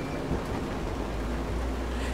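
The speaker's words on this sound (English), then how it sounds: "Oh, it's raining." Steady rain in the video game Road 96, a continuous wash of even, dense noise with no breaks, heard close and alone without talk.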